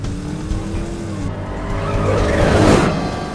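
A car drives and skids, a short engine pitch sliding down before a rising broadband tire scrub swells loud and close, with no talking.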